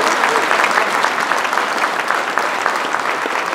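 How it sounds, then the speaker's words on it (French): Audience at a mayor's New Year address in Notre-Dame-de-Gravenchon applauds steadily, a dense, even patter of many hands clapping throughout. "je crois qu'on peut les applaudir"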